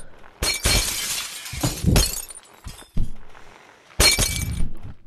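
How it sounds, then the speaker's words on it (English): Glass shattering in the video game Happy Wheels: several loud crashing bursts of breaking panes in quick succession, with one more sharp smash near the end. "Get out of my way, you stupid glass."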